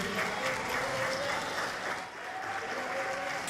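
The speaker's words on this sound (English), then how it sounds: "greeted with resounding applause and cheers" Resounding applause and cheers from a crowd at a graduation ceremony for trade course participants, steady dense clapping throughout with a faint voice over it.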